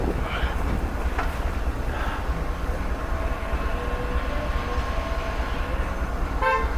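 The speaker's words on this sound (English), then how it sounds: "Oh, that train." A train rumbles steadily nearby with a continuous low roar, faint horn-like tones sounding briefly over the din.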